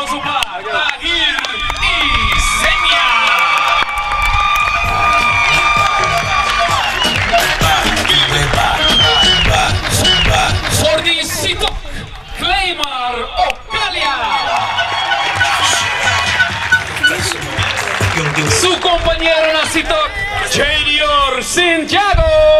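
A crowd at a football player presentation in Curaçao claps and cheers loudly, with whoops and babble over a stadium announcer's amplified voice, the applause swelling and continuing throughout.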